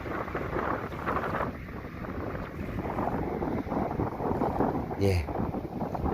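Strong gusting wind buffets the microphone beside windmill-driven seawater pumps at the Lembang salt pans in Indonesia, a dense, continuous roar that surges and eases, with a brief voice near the end.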